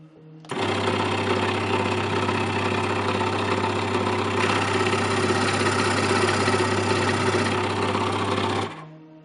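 An angle grinder cuts aluminium against a guide on an opening table, giving a continuous loud, buzzing motor roar that starts abruptly, holds steady for about eight seconds, then stops.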